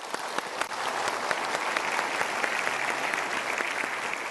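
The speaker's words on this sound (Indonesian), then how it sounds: "Sekarang kita berikan tepuk tangan dulu." Sustained audience applause fills the whole stretch at a motivational talk, a dense, steady wash of many hands clapping with no voices over it.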